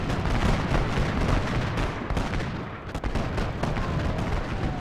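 Artillery and musket fire from the Civil War battle game Ultimate General: Gettysburg on Xbox form a dense, continuous roar of overlapping booms and crackling volleys, loud throughout.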